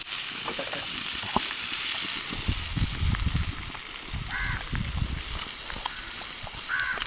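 Fish frying in masala in a pan, a steady crackling sizzle with occasional spattering pops, close and continuous throughout.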